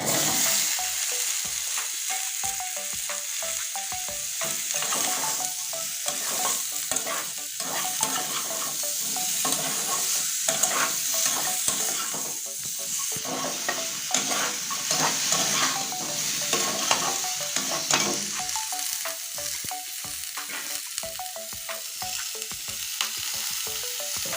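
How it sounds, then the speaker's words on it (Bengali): Cucumber fries in hot oil while a utensil stirs it, producing a continuous loud sizzle with frequent clinks and scrapes against the pan throughout, close up, with no one speaking. "শসার তরকারিটা আমি রান্না করব এই তেলের ভিতরে ছেড়ে দিচ্ছি"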